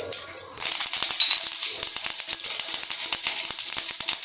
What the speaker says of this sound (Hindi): इसे 1 मिनट तक फ्राई होने देंगे